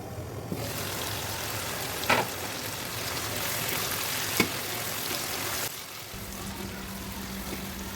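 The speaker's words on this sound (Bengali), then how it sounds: "মাংস একটু পেঁয়াজের সাথে ভালো করে নাড়াচাড়া করে মিশিয়ে নিয়ে কিছুক্ষণ কষিয়ে নেওয়ার জন্য" Beef frying with onions in oil in a home kitchen pot, a steady close sizzle with a couple of sharp stirring knocks, cutting out near the end to a low hum.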